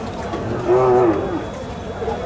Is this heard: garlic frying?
no